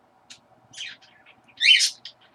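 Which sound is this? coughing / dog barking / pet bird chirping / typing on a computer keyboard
pet bird chirping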